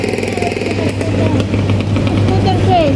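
A scooter passes close by on a busy street during a night walk, its buzzing engine steady and loud over traffic noise, with voices chattering nearby.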